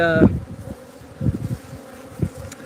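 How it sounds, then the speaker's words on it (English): Africanized honeybees buzz close by in a few short bursts, a low droning hum rising and fading. "they're Africanized honeybees, killer bees"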